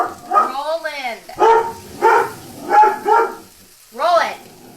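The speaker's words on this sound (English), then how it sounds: "No bark. Go lay down." A young male dog indoors in a home kitchen barks loudly and close about five times in uneven bursts, some with a whining rise.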